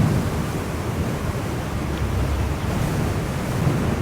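Steady, loud wind buffeting a microphone while riding an Extreme Bull GT Pro Plus electric unicycle at speed, with broadband rumbling roar throughout and no voices.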